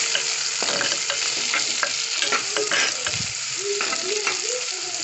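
Onions and green chillies for a Kerala-style sardine fish gravy are stirred in a frying pan, with a close, continuous sizzle broken by repeated scraping strokes of a spoon against the pan.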